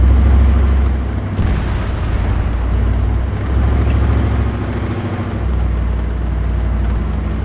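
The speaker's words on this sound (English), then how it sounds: "Heard an explosion, trying to verify." Heavy booms and rumbling blasts roll through a military video game, loud and sustained under constant engine-like drone, with no one talking.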